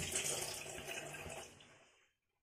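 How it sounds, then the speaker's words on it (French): Tap water running steadily while a bar of soap is rinsed, a close, even hiss and splash that holds for about two seconds, then cuts off abruptly to silence. "Je rince mon savon."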